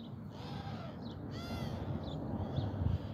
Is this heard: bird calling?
yes